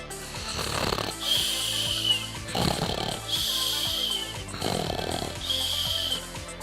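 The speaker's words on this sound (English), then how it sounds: "Frank began snoring, loudly" A roommate snores loudly at night, three long rasping inhales spaced about two seconds apart, close and heavy, with no talking.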